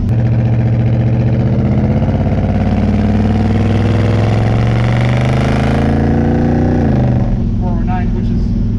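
A 1965 Chevy Impala SS with a 477 stroker V-8 idles loudly up close, its deep, lumpy exhaust burbling steadily before the revs drop and the note settles lower near the end; someone talks over it.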